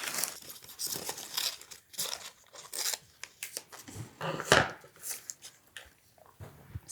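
Paper painted with acrylic ink is cut and handled for a mixed-media sketchbook page, giving close, irregular crinkling and snipping rustles in short bursts with brief pauses.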